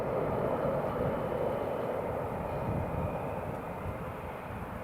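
Airliner on landing rollout at Newcastle International Airport with full reverse thrust engaged, a steady broad roar of jet engine noise holding loud and near throughout, easing slightly toward the end, with no talk.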